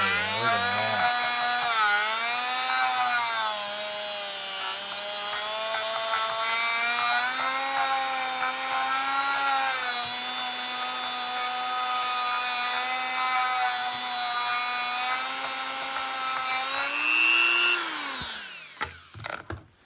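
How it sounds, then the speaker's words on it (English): A small high-speed rotary tool with sandpaper whines steadily while sanding parts of a Scout 80 engine, its pitch dipping slightly under load, then spinning down at the end. "So I've been using my little rotary tool here with"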